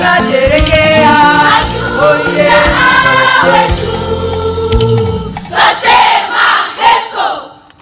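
A crowd at a Kenyan army inspection cheers and sings loudly, with sustained massed voices giving way to rising bursts of shouting and cheers toward the end.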